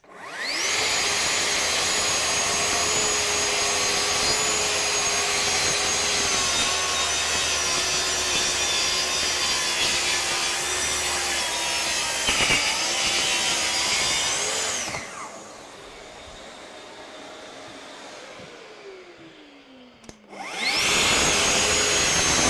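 A saw cuts through thin-veneered budget plywood while a dust extractor roars alongside. Both run loud and steady for about fifteen seconds, the extractor whines on alone and winds down, then everything starts up again at full volume.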